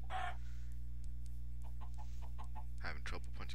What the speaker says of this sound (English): Having trouble punching the chicken because the chicken is faster than me since I have low frame rates right now